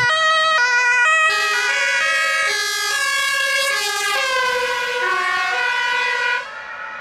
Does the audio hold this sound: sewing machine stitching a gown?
no